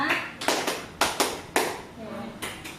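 A group claps along to a counting game in a classroom teaching session, with sharp, irregular bursts of hand claps building in short clusters, moderately close, mixed with background chatter.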